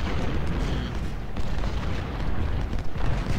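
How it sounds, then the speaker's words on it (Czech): Battle sounds from the Ultimate General: Civil War video game at Stones River, a dense, continuous rumble of artillery fire and musketry with rolling booms layered throughout, loud and unbroken. "Tady se zuřivě střílí"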